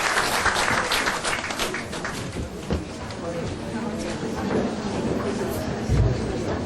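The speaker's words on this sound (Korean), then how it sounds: "우리 하나님께 감사 박수 올려드립니다" A church congregation at its 2014 founding worship service breaks into warm, sustained clapping, with voices mixed into the dense, steady applause.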